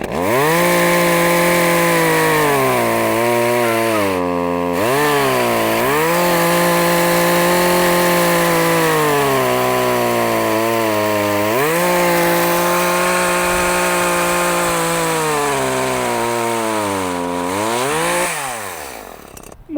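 A 30 cm petrol chainsaw runs loud and close, its engine dipping and rising in pitch as it bogs into wood, then revs back up.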